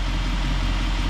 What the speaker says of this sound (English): And the engine is still running. It's been running this whole time. And it's quiet.